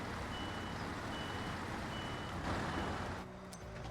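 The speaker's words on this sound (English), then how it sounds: "I'm going to go ahead and just back right up to the truck here" In the off-road game Expeditions, a Tatra truck backs up with faint, evenly spaced reversing beeps above a low, steady engine rumble.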